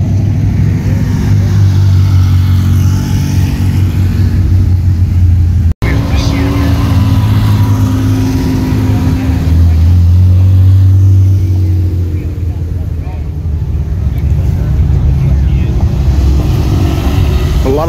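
A Pontiac GTO Grand Prix engine rumbles at a concours d'elegance, a low steady drone swelling as the car moves past, with wind buffeting and voices talking over it.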